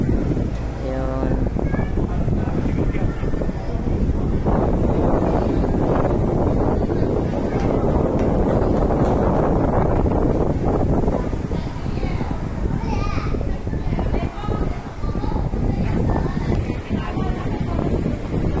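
Strong, steady sea wind roars and buffets the microphone throughout at Stanley Plaza, a broad rushing noise by the sea with faint voices underneath.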